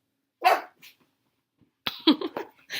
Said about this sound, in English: Guys, no barking.